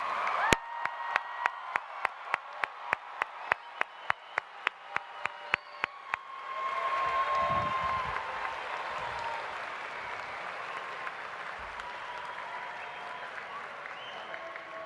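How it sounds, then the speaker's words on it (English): A crowd's applause at a 2019 high school graduation builds into sustained clapping and cheering, preceded by a string of evenly spaced sharp claps from one person nearby. "Let's give one more round of applause for the class of"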